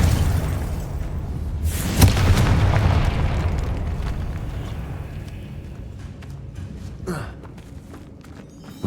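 Confringo spell blast in the Hogwarts Legacy video game, a sharp boom near the two-second mark that rumbles and fades, followed by a smaller pop later, over a low game background.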